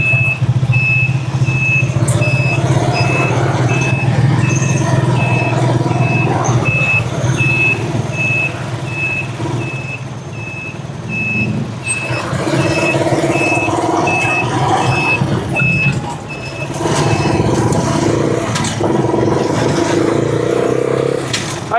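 Street traffic with trucks and cars passing close by, a steady engine rumble under a repeating electronic reversing beep, with occasional scraping and revving, loud and continuous.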